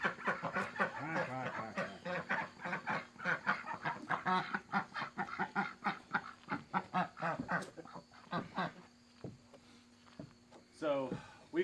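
A flock of ducks, including Pekins, quacks and honks in a busy, overlapping chorus on a homestead, fairly close by, with a few louder calls near the end.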